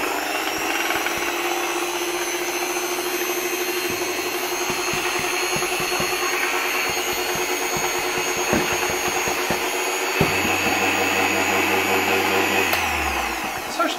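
An antique Electrolux 7 vacuum cleaner runs with a loud, steady motor whine and rushing airflow, continuous and close, with a low rumble rising near the end as it winds down.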